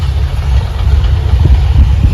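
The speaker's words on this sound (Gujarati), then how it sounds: "ટ્રેક્ટર તો આમ થાય છે જો" A tractor engine running in a groundnut field, a loud, close, low-pitched chugging rumble that holds steady throughout with no voices over it.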